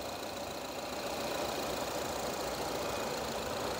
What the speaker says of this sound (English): You can hear the idle settling out now as it warms up.